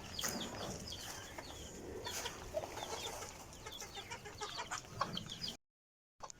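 Backyard pet chickens cluck steadily at feeding time, a busy, close flock chorus of overlapping clucks running without pause before cutting to a brief silence.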